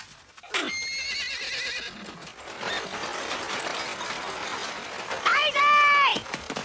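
A horse whinnies loudly near the end, its cry rising and falling, after a stretch of busy clattering and rustling with voices shouting in the background.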